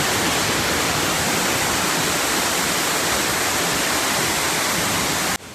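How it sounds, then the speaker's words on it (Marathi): A waterfall at Padsare roars as a steady, loud, dense wash of falling water that fills the whole span and cuts off abruptly at the end. "पण भाई वॉटरफॉल एकदम खतरनाक आहे"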